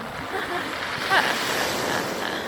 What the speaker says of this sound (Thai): คลื่นกระเซ็นมากเลยค่ะ